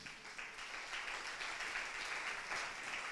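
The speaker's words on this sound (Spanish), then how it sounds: "Alguien dele un aplauso al Señor" A church congregation applauding steadily during a sermon, a dense wash of many hands clapping at a distance, without a break and fairly soft.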